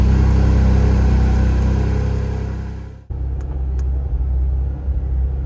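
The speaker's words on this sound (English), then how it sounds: "I'm gonna start the car first" Porsche GT4 RS engine cranking and catching, a loud steady rumble that cuts off abruptly midway, then settles into a lower, slightly uneven idle close by.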